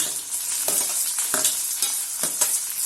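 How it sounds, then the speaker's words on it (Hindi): Onions frying in hot oil in a kadhai give a steady, close sizzle, with a few louder scraping stirs breaking through now and then. No one speaks. "कढ़ाई में तेल गरम हो चुका है। हम इसमें प्याज डाल देंगे।"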